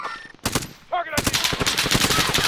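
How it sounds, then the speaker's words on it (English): Video game gunfire in Call of Duty: Warzone, an opening shot then a sustained rapid automatic burst, loud and close, with a brief voice in between. "Oh, Taking active fire. I'm getting shot from the right"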